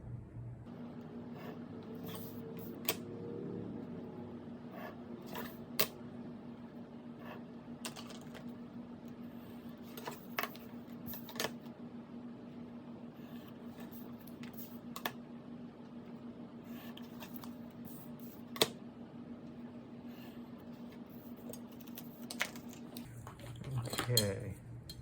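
Faint scissor or knife snips and light taps while cutting the corners off cardboard pieces for a small book cover, a few sparse clicks over a steady low hum.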